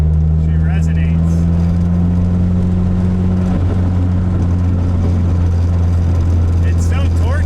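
A turbocharged K24-swapped Nissan Cefiro pulls under acceleration from inside the car, a steady loud engine drone with a deep resonant hum that shifts pitch near the middle, continuous throughout.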